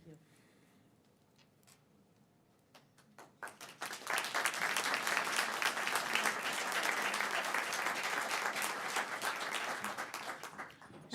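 After a few quiet seconds with scattered claps, a city council meeting crowd breaks into loud, sustained applause that continues to the end.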